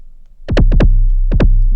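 Deep kick drum hits from a Battalion drum synth, blending FM synthesis with a sample, in two quick pairs followed by a third pair, each with a sharp attack and a booming low tail.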